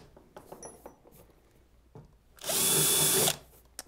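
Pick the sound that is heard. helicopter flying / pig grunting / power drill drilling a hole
power drill drilling a hole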